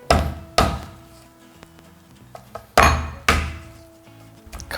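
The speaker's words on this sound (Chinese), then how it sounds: "用这个刀的刀背稍微这样子敲打它，给它剁融" The spine of a kitchen knife pounds peeled, deveined raw shrimp meat on a cutting board, giving four loud, sharp thuds with a few lighter taps in between, close up with no talking.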